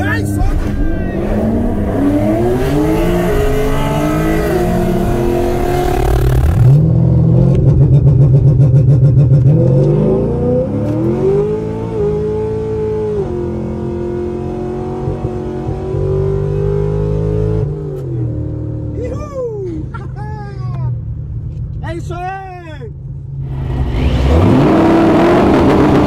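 A Chevrolet Caravan's engine revs hard in repeated loud, rising bursts, with shouting and voices talking over and between the climbs.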